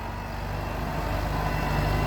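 A farm tractor works a dry rice paddy, levelling the field after harvest, its engine giving a steady low diesel drone with a continuous idling rumble that holds even and close throughout.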